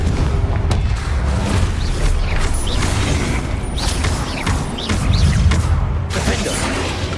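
Booming spell blasts from Confringo being cast in the video game Hogwarts Legacy, several heavy thuds and crashes amid continuous combat noise and rumbling game audio.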